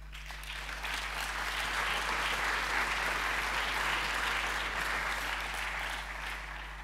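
An audience applauds in a hall, a dense, even wash of clapping that swells quickly, holds steady for several seconds and then tapers slightly.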